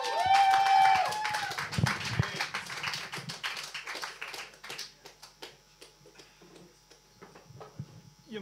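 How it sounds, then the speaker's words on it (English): Applause for a comedian at a British comedy night in Beijing starts as a loud wash of clapping, then thins into scattered claps and taps as it fades. "Let's give him a big round of applause."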